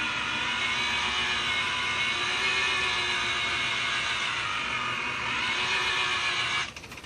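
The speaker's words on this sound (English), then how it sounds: "I'm going to pick it on up to that 600 RPM and just kind of let it." A car polisher running steadily at 600 RPM over freshly spray-painted bodywork after wet sanding, a continuous close whirring drone that holds level before tapering off at the end.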